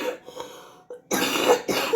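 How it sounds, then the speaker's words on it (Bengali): Two harsh, close coughs burst out one after the other after a quieter lead-in, with a short gap between them and no speech. "কাশিটা চলছেই।"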